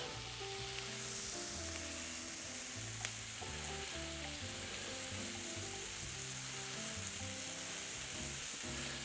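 Chopped onions hit a pan still holding the lamb chop juices, and a dense, even sizzle runs throughout, with steady tonal notes sounding faintly underneath.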